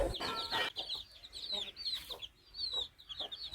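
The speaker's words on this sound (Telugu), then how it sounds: "ఇదిగో చూడండి, చిన్న పిల్లలు కూడా మేత మేస్తున్నాయి." Chickens cluck softly at a poultry farm as chicks feed near a tied rooster. Short, rhythmic clucks come in quick bursts, fairly quiet, with small pauses between them.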